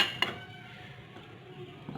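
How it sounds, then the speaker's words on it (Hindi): A spoon scrapes and clinks in a bowl while rose water is stirred into a face mask paste, with soft, quiet mixing sounds and one sharper clink near the start. "हम इसको अच्छे से मिक्स कर लेंगे।"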